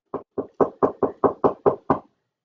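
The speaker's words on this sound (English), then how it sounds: "he knocked on that door." Nine steady knocks on a door, evenly spaced and close, each a firm rap with a short fade, then silence.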